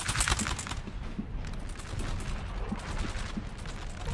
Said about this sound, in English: my troops getting hit by some standard shot from the cannons